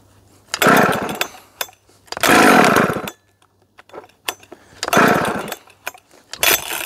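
Chainsaw with bad bearings started up and revved in loud bursts, rough roaring runs of about a second each separated by near-silent gaps and a faint idle, close by.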